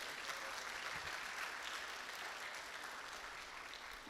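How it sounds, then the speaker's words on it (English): An awards-event audience at a chamber of commerce anniversary gala applauds, a steady wash of many hands clapping at moderate distance, sustained evenly throughout with no talking. "So a big round of applause for all of you."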